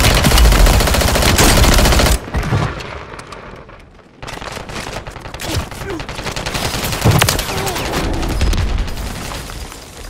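Gunfire in the video game Call of Duty: rapid bursts of automatic weapon fire and shots, loud and close, with a brief lull midway before the shooting picks up again.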